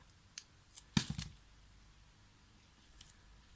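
Scissors snip through a short length of double-sided tape beside a small paper card, giving a couple of quick close cuts with one louder snip, then near quiet.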